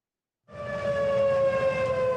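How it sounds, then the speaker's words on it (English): Flood warning siren sounding in Boulder, Colorado during overnight flash flooding, a steady sustained wail starting abruptly and holding at full strength, heard alone from a moderate distance. "The sirens have just sounded again in Boulder."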